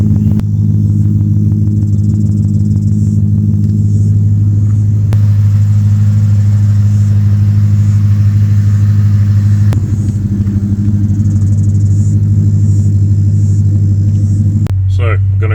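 A Ford Falcon XT fitted with a Barra engine idles as it warms up, a steady low rumble running continuously and loud close by, with a brief change near the end.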